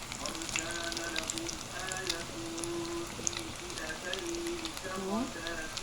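Cauliflower pieces deep-frying in plenty of oil give a steady, dense sizzle and crackle throughout, with a voice speaking over the frying.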